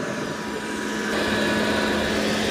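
A Dreame X30 robot vacuum mop undocks from its base with a steady, loud whirring motor hum and a faint tonal whine, growing slightly louder midway through and running continuously without speech.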